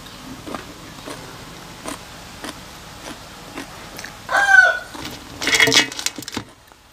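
Chickens at a rural home give two loud bursts of clucking and crowing-like calls close by, following a series of quiet, regular tapping knocks.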